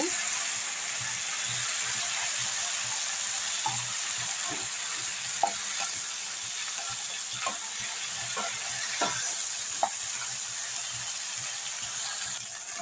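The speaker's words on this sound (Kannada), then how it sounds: "ನೋಡಿ ಇವಾಗ ಸ್ವಲ್ಪ ಫ್ರೈ ಆಗಿದೆ ಇನ್ನು ಸ್ವಲ್ಪ ಫ್ರೈ ಆಗಲಿ" Okra frying in a pan with a splash of tamarind juice for an okra huli, a continuous close sizzle with scattered taps and stirring clicks throughout.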